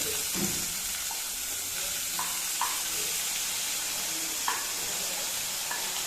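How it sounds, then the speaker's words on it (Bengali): Vegetables such as capsicum and cauliflower fry in a little oil in a pan for vegetarian ghugni, giving a steady soft sizzle with occasional stirring clicks, close and alone with no talk. "তেল দিয়ে সবজিগুলো এবার একটা একটা করে সবই ভেজে নেব।"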